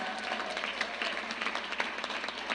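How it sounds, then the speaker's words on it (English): An audience claps steadily for Marilyn, the new president, at a senator's address, a dense, even patter of many hands that holds throughout without a break. "Let's give her a round of applause."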